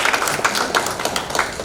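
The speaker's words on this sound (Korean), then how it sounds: "여러분 다시 한번 힘찬 박수 부탁드립니다" An audience at a 2023 Korean political assembly claps, a dense, moderately loud patter of hands with a few sharper individual claps.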